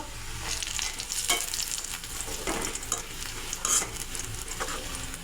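Cashew nuts frying in mustard oil, a steady close sizzle with occasional stirring scrapes and spatter pops, heard alone without talk.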